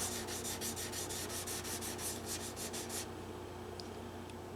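Fine 1200 grit abrasive pad rubbing back the black sparkle finish of a Guild D25 acoustic guitar, a steady series of quick close strokes that stop partway, leaving quiet room tone.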